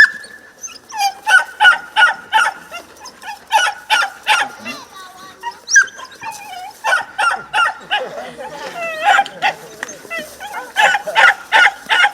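Trained dogs bark repeatedly in rapid, irregular bursts throughout, loud and close, with some honking-like yelps mixed in and voices in the background.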